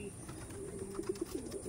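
Madrasi pigeons give low, faint coos in a quick series of soft pulses over quiet background noise.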